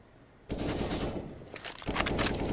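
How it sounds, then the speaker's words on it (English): A French rifle in CS:GO fires loud, fast automatic bursts after a quiet start, with a short break before more rapid shots rattle on until the end. "Now he'll try it with the French rifle."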